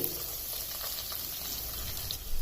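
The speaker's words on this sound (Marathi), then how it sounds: "लसूण थोडं ब्राऊन झाल्यानंतर त्यात टाकते मी हे दोन मिडियम साईजचे बारीक चिरलेले कांदे" Two finely chopped medium onions hitting a pan of browned garlic for a dhaba-style garlic fenugreek dish give a steady, close, broadband sizzle and crackle that holds evenly throughout with no talking.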